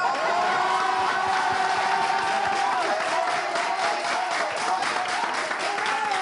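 A studio audience on a French-language talk show applauds and cheers, dense continuous clapping with rhythmic bursts and a tonal hum beneath, loud and steady across the whole stretch.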